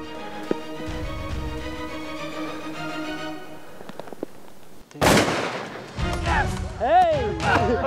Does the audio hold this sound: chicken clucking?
no